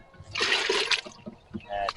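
Water is poured out to water tobacco plants, a broad splashing, trickling pour that runs for about a second before tapering off into quieter dribbles.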